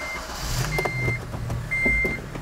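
A Honda Element rolling slowly around a parking lot, its low engine rumble steady and close, with a few short electronic beeps from the car sounding twice.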